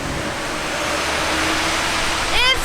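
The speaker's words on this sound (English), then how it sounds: "What do you think of this waterfall?" Steady broadband rush of falling water, constant and fairly loud, with a brief voice near the end.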